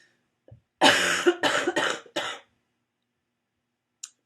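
A short burst of several harsh coughs in quick succession, close and loud, followed by quiet.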